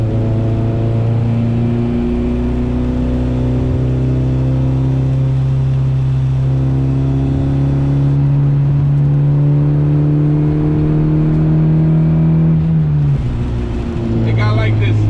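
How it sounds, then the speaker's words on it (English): A Honda Civic EG with an aftermarket exhaust drones steadily at close range, its deep tone rising and falling as the engine revs while the car drives, with a brief dip and a fresh pull near the end. "I love the way the exhaust sounds."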